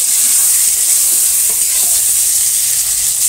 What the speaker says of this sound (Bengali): পটলটা ভাজবো, পটলটা ভাজা হয়ে যাচ্ছে।